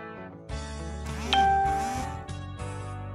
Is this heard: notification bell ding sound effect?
yes